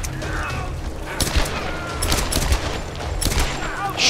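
Rapid gunfire bursts and impacts from the Tomb Raider video game, dense overlapping shots and booms running continuously at close range over a noisy background.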